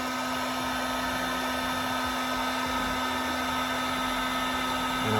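Heat gun blowing steadily while vinyl wrap is heated on a Jeep Wrangler, a constant close whirring hiss with a fixed hum, continuous throughout and nobody talking.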